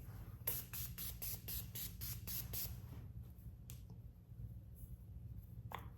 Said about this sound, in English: So I'm going to spray with Morphe Mini Continuous Prep and Set Mist.